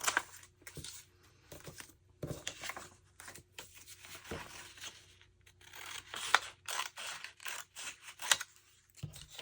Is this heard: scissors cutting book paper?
yes